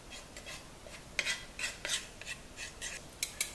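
Vegetables are sautéed in butter in a pan for egg noodles, with faint, irregular scraping and clinking of a utensil stirring against the pan and short louder scrapes in between.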